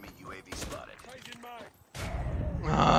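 Gunfire in the mobile shooter Call of Duty Mobile comes as short bursts of shots mixed with game voice lines, ending in a loud sustained barrage.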